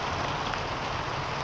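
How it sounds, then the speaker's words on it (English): Steady rain pours down on a farm during a flash flood, a dense, even hiss of drops drumming on surfaces that carries on without a break and with no voices. "it's raining"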